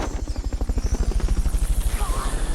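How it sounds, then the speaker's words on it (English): Fulton recovery helicopter in Metal Gear Solid Peace Walker, a loud, steady rapid rotor thump pulsing evenly and close throughout. "Fulton recovery helicopter is complete."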